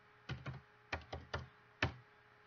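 Computer keyboard typing heard alone: a few separate clusters of crisp, close key taps in an uneven rhythm, with short pauses between the bursts.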